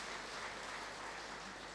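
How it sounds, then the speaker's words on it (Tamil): A seated audience at a Tamil spiritual lecture claps together in a steady, dense wash of applause, even and sustained throughout with no voices over it. "நல்ல ஒரு கைத்தட்டல் கொடுத்து அவர்களுக்கு நாம் பாராட்டுகிறோம்"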